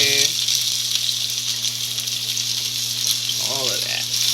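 Steady, loud sizzling of onions frying in about three tablespoons of oil in a hot pan, continuous throughout with a low hum beneath and a brief clink near the end.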